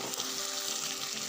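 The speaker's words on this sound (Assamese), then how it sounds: "ইয়াত দি লৈছোঁ মিক্স কৰা মছলাখিনি" Mixed spices, soaked in water, sizzle and fry in a pan for an egg curry. The close, bright crackle is brief and steady.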